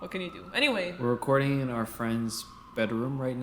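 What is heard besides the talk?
None of the usual background noises is heard.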